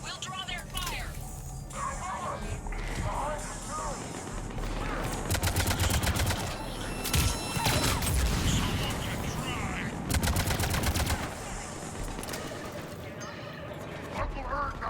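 Gunfire in a Mass Effect firefight, with dense bursts and rapid automatic volleys crackling over a steady low rumble, loud and close, mixed with game sound and voices talking throughout.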